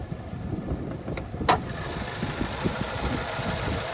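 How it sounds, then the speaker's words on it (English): A 2026 Buick Envision's 2-liter turbocharged four-cylinder engine idles in the open engine bay, a steady low rumble with a faint click or two, heard close and alone. "there's that 2-liter turbocharged 4-cylinder engine"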